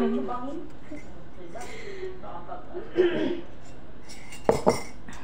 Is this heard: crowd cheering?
no